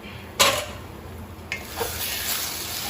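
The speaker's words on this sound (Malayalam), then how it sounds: "ഫ്ലെയിം സിമ്മാക്കി വെച്ചാണ് ഞാനിത് വഴറ്റുന്നത്." Egg pasta ingredients being sautéed in a pan over a low flame: a soft, steady background sizzle broken by a few sharp utensil scrapes and clinks against the pan.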